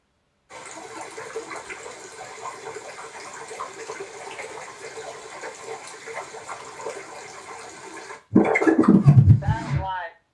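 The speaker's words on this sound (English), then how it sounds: "that is indeed the sound of flowing water" Flowing water runs steadily for about eight seconds, like a tap filling a sink, then cuts off as a loud voice takes over at the end.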